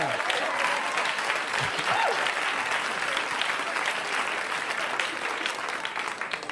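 Steady audience applause at a stand-up comedy show fills the whole stretch, loud and continuous with a slight fade toward the end, with no voice standing out above it.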